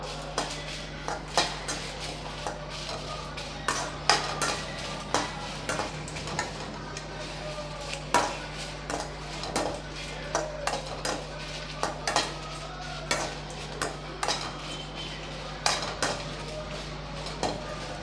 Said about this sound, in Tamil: இப்போ அதே கடாயில் நம்ம மிளகாயை வறுத்து எடுத்துக்கலாம்.